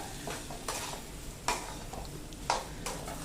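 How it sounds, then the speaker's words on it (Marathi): Dal is stirred and roasted in a pan for a raw mango dal, with soft sizzling and a few distinct scraping strokes of the spoon against the pan, close and without talk. "डाळ छान परतायची, थोडीशी कोरडी होईपर्यंत परतायची असते ही डाळ"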